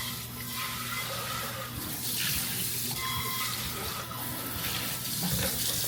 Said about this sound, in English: Go ahead and rinse this out.